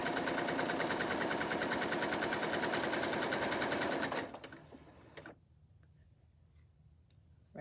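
A sewing machine runs a regular straight stitch in a fast, steady mechanical rattle for about four seconds, close and loud, then stops, leaving quiet handling noise.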